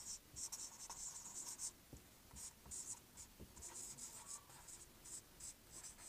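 Writing on a board during a geography lecture makes a faint, continuous scratchy rubbing of strokes in short irregular bursts.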